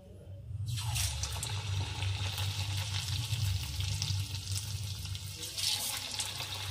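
Potato slices go into hot oil with a sudden burst of sizzling that settles into a steady, bubbling hiss over a low background hum.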